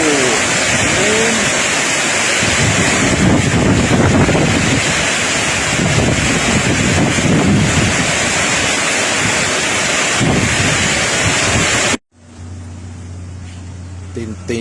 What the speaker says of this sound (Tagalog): It's a very stormy morning.